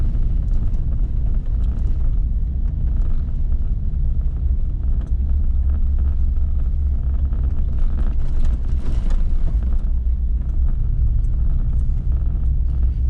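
A car passes on a rural road near Locust Grove by the old Kettle Falls townsite in Washington, a steady low rumble of engine and tyres that stays loud throughout with no talk.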